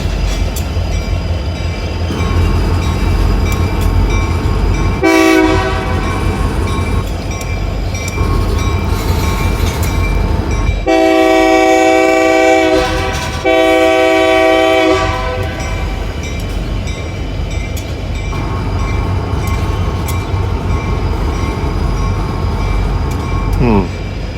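Heavy locomotives rumble past close by while a loud train horn blasts several times; a voice talks over the grinding rail noise.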